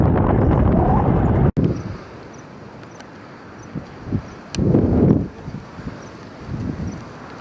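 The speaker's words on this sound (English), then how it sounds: "We've just been powering through the wind for the past 10k at least." Strong wind buffets the microphone while cycling, rumbling in loud gusts with brief lulls and a sudden cut, close and rough throughout.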